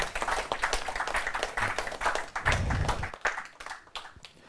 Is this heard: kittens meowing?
no